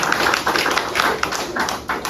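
A church congregation clapping their hands together: steady, rapid, fairly loud applause-like patting with no pauses, carried on for the whole moment.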